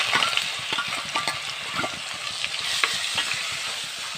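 Crushed onion, ginger and garlic sizzle and fry in hot coconut oil with mustard seeds, with steady close crackling and repeated stirring scrapes, no voices.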